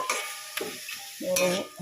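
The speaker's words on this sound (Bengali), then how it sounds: "এবারে ভালো করে নাড়িয়ে চাড়িয়ে জলটা শুকিয়ে ভালো করে ভেজে" Food being stirred and fried in a pan: soft sizzling under a few scraping stirring strokes, close and fairly quiet over under two seconds.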